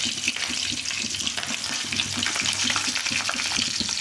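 Onions frying in a pan with green chillies for upma, a steady sizzle with soft stirring scrapes throughout.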